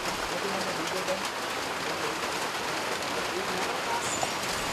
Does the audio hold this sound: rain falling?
yes